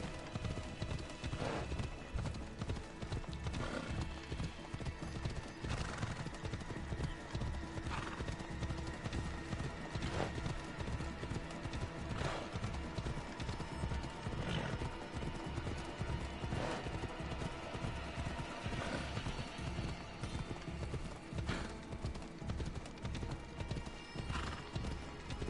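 A horse gallops in Assassin's Creed Odyssey, with steady clip-clopping hoofbeats running continuously under game ambience and occasional whinnies, loud and close throughout.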